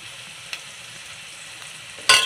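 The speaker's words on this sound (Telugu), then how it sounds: "ఉల్లిపాయలు వేగిపోయి చూసారా, ఇవ్వండి ఉల్లిపాయలు వేగిపోయాయి." Onions frying for chicken biryani, a soft continuous sizzle in the pan with a faint stir near the start and a sudden louder burst of hissing near the end.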